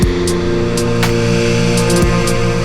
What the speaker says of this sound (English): Once you have that, then you create this easy little drum beat, which sounds like this.